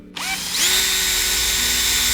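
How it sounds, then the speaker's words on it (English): A power drill bores a hole into the body of an electric octave mandolin, with a steady high-pitched whine that spins up quickly and holds close and loud to the end. "first we're just going to drill a hole here and put"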